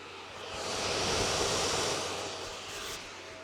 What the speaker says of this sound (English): I had it kick on, just so I could hear how loud it is